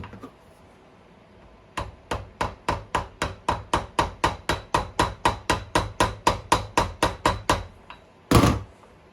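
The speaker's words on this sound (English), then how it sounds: "I'm just starting it with the hammer there" A hammer taps a bearing into a YZ125/250 motorcycle linkage in a steady run of about two dozen even, sharp blows, close by, ending with one heavier knock after a short pause.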